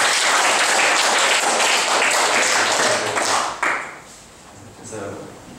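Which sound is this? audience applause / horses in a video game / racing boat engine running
audience applause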